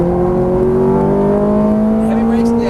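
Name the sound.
Ferrari F430 engine revving as driver applies throttle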